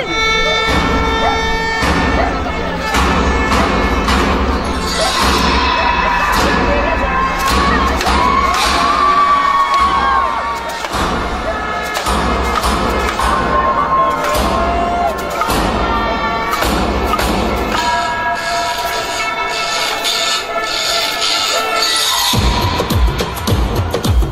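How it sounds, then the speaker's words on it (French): A loud carnival crowd at the Caudry carnival cheers, shouts and claps continuously, with children's voices, thumps and music-like tones mixed into a dense, steady din throughout. "On l'applaudit bien fort, c'est la présidente."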